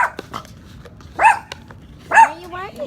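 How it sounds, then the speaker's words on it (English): A dog indoors lets out two sharp, loud barks about a second apart, with smaller yips and a voice around them. "Why are you barking?"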